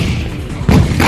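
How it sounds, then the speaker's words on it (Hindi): Azerbaijani artillery firing on enemy positions: a loud, deep boom strikes partway through over a rumbling field background, followed by sustained low roar. "इन वीडियो में अजरबैजान का तोपखाना दुश्मन के ठिकानों"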